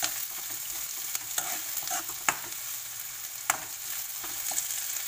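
Capsicum and yellow and red bell pepper strips stir-fry on a high flame, a steady close sizzle broken by occasional sharp clacks of a spatula against the pan.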